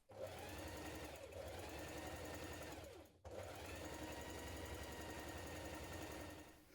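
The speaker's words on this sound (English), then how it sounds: "Now stitch undersleeve to upper sleeve with right sides facing like this and stitch this seam in place matching your markings." Sewing machine stitching the sleeve seam of a winter coat, running steadily at an even pace with one brief pause near the middle, close but soft, with no talking.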